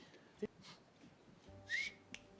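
A short, quiet whistle rises briefly amid faint background noise and a couple of soft clicks.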